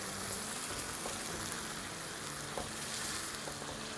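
Onions and chicken frying over a medium-high flame for a karahi, a loud, dense, continuous sizzle close up with faint stirring underneath and no talk.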